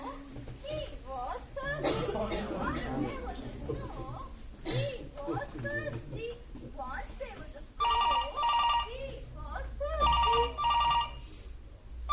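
A telephone rings during a stage play in a theatre, two bursts of rapid electronic trilling near the end, following a stretch of actors speaking with a cough and laughter.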